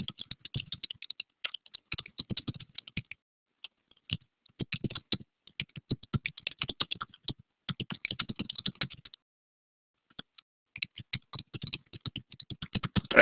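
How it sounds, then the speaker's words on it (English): Someone types a sentence on a computer keyboard, sounding as close, crisp clicks in irregular bursts separated by short pauses, with no speech. "Just gonna type it out."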